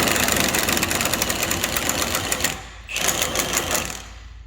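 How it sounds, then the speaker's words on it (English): An impact wrench works on the lower nuts of a car's sway bar end links, giving loud, rapid rattling hammer bursts: one long run, a brief pause, then a second burst close by. "to access these lower nuts with the impact and see how we do"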